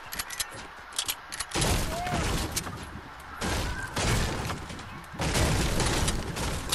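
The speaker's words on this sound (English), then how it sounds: "Heard somebody shoot." Gunfire in the video game Fortnite, played in duos near a building, comes as loud broadband bursts in several clusters, with quieter stretches between, and brief game tones over the top.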